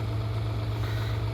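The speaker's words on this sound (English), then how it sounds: "let's see if this thing will start." Diesel engine with a grid heater and glow plugs running at a steady, rough idle: a loud, constant low hum with a throbbing rumble and vibration, heard alone.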